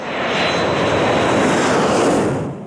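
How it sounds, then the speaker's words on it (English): A Boeing or Airbus commercial passenger jet coming in to land in thick cloud makes a loud, continuous broadband engine roar that swells slightly and fades at the end. "somewhere up in the sky are two different planes, both of them trying to land"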